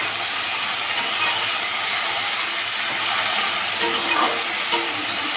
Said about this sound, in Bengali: এই যে সামান্য একটু লবণ দিয়ে আমি ভাজা করে নিচ্ছি শাকটাকে